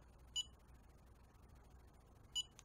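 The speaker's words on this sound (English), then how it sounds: "And you can hear it beep." Two short, high electronic beeps about two seconds apart from a Deess RF facial toning device switching on, faint against a quiet background hiss.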